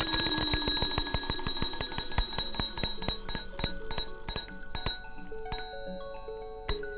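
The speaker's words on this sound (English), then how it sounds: "and triggers a bell." A bell on an early electric telegraph rings in a rapid train of metallic strikes that gradually slow and thin out into sparser, isolated dings, with nobody talking.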